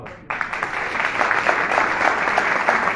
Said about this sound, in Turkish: Güçlü alkış rica ediyorum değerli Doğan Şengül için